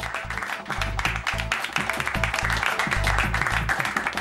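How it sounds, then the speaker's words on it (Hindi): Applause fills a room in a Hindi comedy episode, a dense continuous clatter of many hands at fairly close range, mixed with voices and a thumping low rhythm underneath. "तालियां तालियां भाई।"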